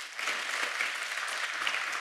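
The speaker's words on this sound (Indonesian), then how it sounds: "Kita kasih tepuk tangan saudaraku." A church congregation claps together in a steady, even wash of applause that holds at a constant level for a couple of seconds, heard from within a large room without voices over it.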